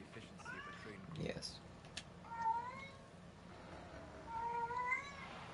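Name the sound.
cat meowing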